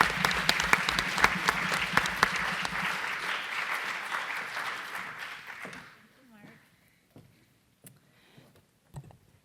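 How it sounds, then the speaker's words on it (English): Audience applause greets a speaker being welcomed to the stage at the Akron 200 Forgotten History Forum, a dense clapping wash for about six seconds before it abruptly dies away, leaving only scattered faint claps and room noise. "please give her a large round of applause"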